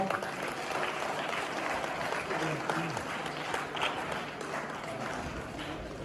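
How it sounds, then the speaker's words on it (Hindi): Sustained clapping from a crowd at an Independence Day celebration event continues at an even level, with scattered voices and a few brief vocal sounds mixed into the applause. "जोरदार तालियों के साथ"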